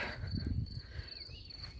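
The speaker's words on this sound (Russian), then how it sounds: "Сверчки сверчат." Crickets chirp in a steady, high, unbroken trill in the Swiss countryside, moderately close, with soft low rustling and footstep-like thumps underneath and no talking.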